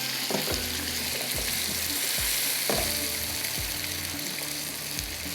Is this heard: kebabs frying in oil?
yes